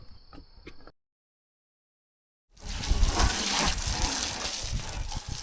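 Water from a tank gushes and splashes steadily while rinsing off lawnmowers and a UTV outdoors, starting loud after a brief silence and continuing as a broad, close spray.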